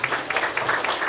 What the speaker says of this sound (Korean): 오늘 고생해 주신 저희 본부장님께 다시 한번 큰 박수 부탁드리겠습니다